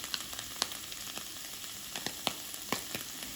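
Cut peppers sizzling in a hot frying pan with a soft, steady crackle, broken by a handful of sharper pops and clinks spaced irregularly across the moment.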